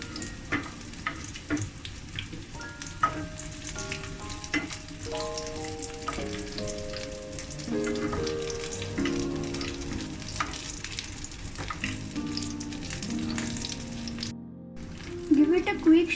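Crushed garlic and onions sizzle in a pan while being stirred, a steady close frying hiss broken by scraping stirs, with a tune or melodic tones playing over it for much of the time and a brief cut near the end.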